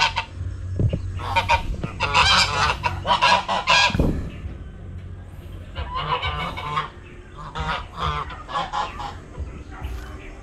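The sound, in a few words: geese honking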